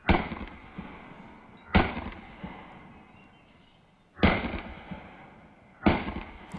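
Gunshots fired during a competitive shooting stage, four sharp, loud reports spaced about two seconds apart, each ringing out briefly with a quieter clack or two in between.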